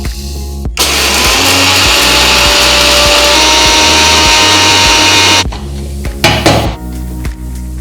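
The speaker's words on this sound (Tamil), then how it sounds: "நம்ம வறுத்து வச்சிருக்கிற கடுகு வெந்தயமும் பொடி பண்ணிக்கலாம்" A mixer grinder powders roasted mustard seeds and fenugreek in a loud, steady whir that starts abruptly, runs for about five seconds, then cuts off, leaving brief jar clatter afterward.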